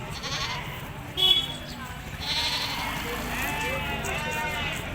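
A goat bleats a couple of times close by at a goat and sheep market in Murgud, Kolhapur, with people talking over it and faint outdoor noise.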